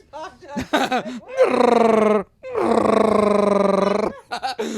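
A man imitates a Wookiee's roar with his voice, two long, loud, growling howls with short vocal bursts before and after.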